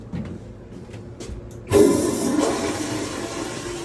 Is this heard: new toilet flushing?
yes